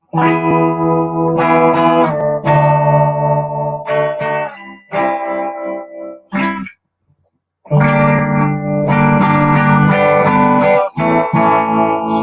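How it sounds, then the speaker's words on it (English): An electric guitar played loud and close through a VOX amp's pulsing tremolo effect, chords wavering rhythmically, with one brief pause midway. "Here's that great VOX tremolo."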